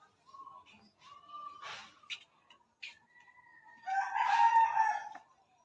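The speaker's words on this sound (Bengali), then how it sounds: "ওই যে মোরগ ডাকতেছে।" A rooster in a rural village crows once near the end, a fairly clear, drawn-out call that follows scattered softer bird calls and brief voices.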